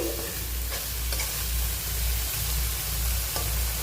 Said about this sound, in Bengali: দইটা দিয়ে খুব ভালোভাবে মশলাটা আবারও ভেজে নিচ্ছি